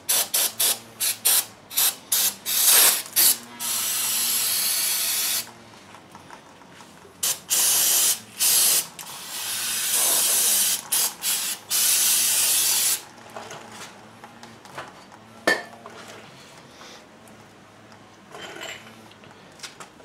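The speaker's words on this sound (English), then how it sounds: "I'm going to give it all another rinse with the brake parts cleaner" Brake parts cleaner aerosol sprayed onto the brakes of a 2004 GMC Sierra 1500 during a brake job, loud close hissing bursts in repeated long and short blasts with brief pauses between.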